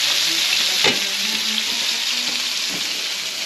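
Fish sizzling steadily in hot oil in a pan, a constant bright frying hiss with a few clinks and stirring knocks, close and alone.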